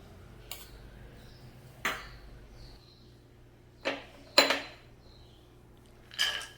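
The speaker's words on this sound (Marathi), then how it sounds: "ड्रायफ्रूट्स आपल्याला परतून घ्यायचे आहेत तुपावर" Almonds, cashews, walnuts and pistachios are stirred in ghee in a kadhai, giving a handful of sharp, spaced-out clinks of the spoon against the pan. The clinks are close and fairly quiet, with no voices.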